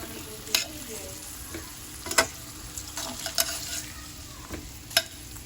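Cooking oil left over from frying beef sizzles quietly in a pan, with occasional sharp scrapes and taps of a utensil stirring, and no one speaking.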